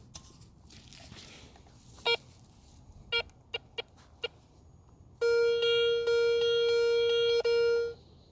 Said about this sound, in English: Let's see how the detector picks up this.